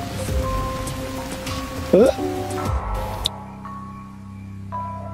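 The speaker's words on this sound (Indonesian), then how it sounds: "kebetulan pada malam itu hari turun hujan" Night rain in a Korean drama scene falls as a steady hiss under a voice and music for about three seconds, then cuts off to quieter tones.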